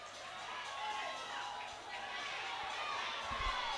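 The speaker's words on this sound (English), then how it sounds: "They are cheering them to complete the race" A crowd at a track and field meet cheers runners toward the finish, a steady wash of distant shouting and chatter with a few louder swells.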